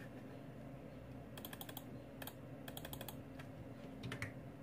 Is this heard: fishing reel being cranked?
no